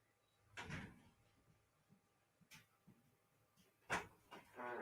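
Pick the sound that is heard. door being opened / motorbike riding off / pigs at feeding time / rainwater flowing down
door being opened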